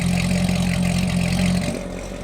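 A Chevrolet Corvette ZR1 idles with its exhaust valves closed, giving a steady, subdued low burble that drops slightly in level near the end, close by with no talking.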